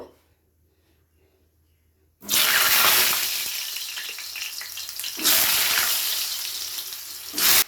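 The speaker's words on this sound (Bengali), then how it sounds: "প্রথমে আলুগুলোকে ভেজে তুলে নেব।" Potatoes hit hot mustard oil in a wok after a quiet opening, bursting into a loud, dense sizzle that keeps crackling steadily, with a second surge of spitting partway through.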